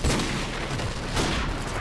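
Gunshots in a Call of Duty: Modern Warfare Remastered free-for-all match: a dense, loud barrage of firing and booms runs continuously through the short moment, with a slightly stronger burst near the end.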